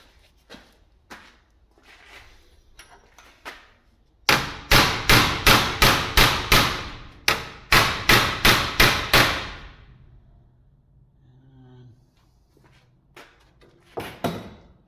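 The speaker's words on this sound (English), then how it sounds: "I might have to hammer it over." After a few quiet knocks comes a burst of about a dozen loud, evenly spaced hammer strikes on metal during work on a Dodge 10, followed by faint scattered clunks; nobody speaks.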